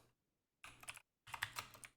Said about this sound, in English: I don't have to finish typing it